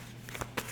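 Tarot cards are shuffled and drawn by hand, soft close riffling with two quick louder flicks near the end, quiet and without talk.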